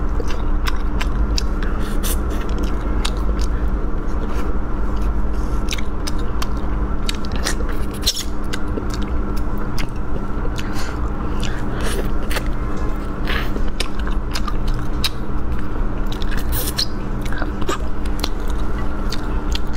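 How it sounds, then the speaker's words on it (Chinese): Spicy Sichuan-style rabbit head being eaten up close, with continuous wet chewing, biting and small cracking sounds from the gills and bone over a steady low background hum, no talking. "麻辣兔头，我好几天都没吃了，吃个兔腮吧"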